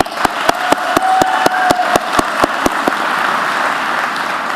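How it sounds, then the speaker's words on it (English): Graduates applaud at a 2014 high school commencement ceremony, a loud crowd clapping with a regular series of sharp, close single claps standing out at a steady rhythm before the applause trails off. "please give yourselves a round of applause for your achievements."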